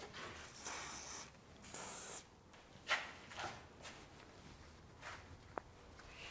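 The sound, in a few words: silicone spray being sprayed on BMW E46 control arm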